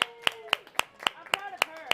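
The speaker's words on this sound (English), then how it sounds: "give yourselves a round of applause" Sharp, evenly spaced claps, about eight in two seconds, come from a painting class group while a voice talks between them.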